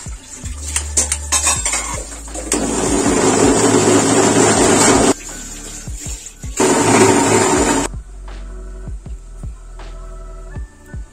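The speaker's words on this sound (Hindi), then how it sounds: "ठंडा होने के बाद मैंने मिक्सी के जार में डाल लिया है, अब इसे बस पेस्ट बना लेना है।" A kitchen mixer grinder blends cooled onion and tomato chutney with a little water into a smooth paste, running in two loud whirring bursts separated by a pause, with clinks of the jar around them.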